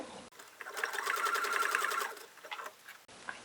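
A sewing machine stitches across the top of a tote bag in a quick, fast-ticking burst of about two seconds, moderately loud and close, between brief quiet handling noises.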